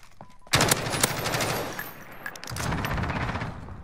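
Rapid bursts of Kilo 141 assault rifle fire in a first-person shooter video game, loud and near, with a short lull before a second stretch of sustained shooting.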